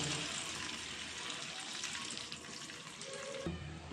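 Hot water poured into a pot of mutton curry with potatoes, a bright continuous splashing stream over faint sizzling that stops abruptly near the end, close and with no talk.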